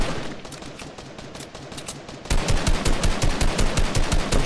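Rapid gunfire in the video game Fortnite: a steady stream of close, punchy shots that gets louder and faster partway through, with no speech over it.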